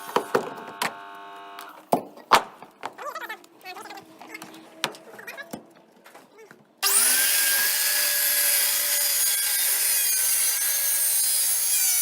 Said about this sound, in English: I use a circular saw for that.